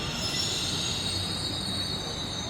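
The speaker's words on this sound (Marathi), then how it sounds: "बँगलोरची मेट्रो नागसंद्रा स्टेशन" A Bangalore metro train at Nagasandra station gives a sustained high metallic wheel squeal over a low rolling rumble, steady and fairly near across the short stretch.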